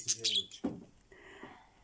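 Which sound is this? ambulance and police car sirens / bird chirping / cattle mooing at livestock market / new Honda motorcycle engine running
bird chirping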